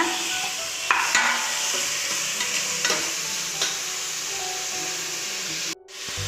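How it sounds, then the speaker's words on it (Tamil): Tomatoes sautéing in a pan with ginger garlic paste for a chickpea kurma, giving a steady close sizzle with occasional stirring scrapes and clinks, then a brief drop near the end. "இப்போ நம்ம தக்காளி சேர்த்துக்கலாங்க"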